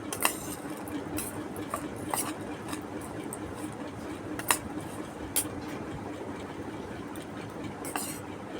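A spoon scrapes and clinks against a bowl while rice is mashed and mixed with greens and pangas fish curry, soft repeated stirring taps close by over a low steady background hum, with no talk.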